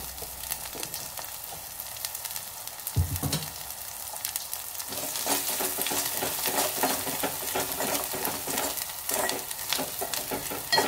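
Oil sizzles and crackles steadily in a pan as ginger paste and ingredients are stirred in while cooking a brinjal tomato curry, with a louder burst of frying near the start.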